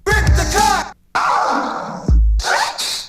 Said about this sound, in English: sort of 808 style bass.